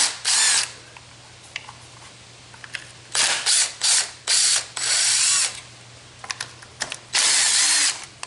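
Power tool buzzing in repeated short bursts, removing 8mm bolts from the chain guard of a KLX110 pit bike, with clicks and ratcheting between runs, close and loud.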